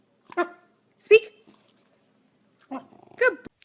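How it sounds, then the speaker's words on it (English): Two pairs of short, harsh dog growls with a hissing edge on a staircase, close by and separated by a quiet pause, with no other sound around them. "What dogs hiss like that on the stairs?"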